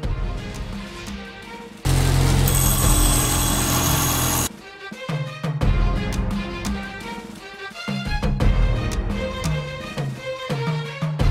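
Angle grinder shaping spikes cut from a lawnmower blade for a mace, a loud steady whine for about three seconds, set between quieter workshop clatter and knocks.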